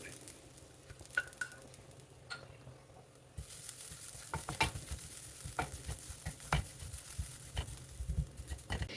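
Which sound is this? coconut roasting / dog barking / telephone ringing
coconut roasting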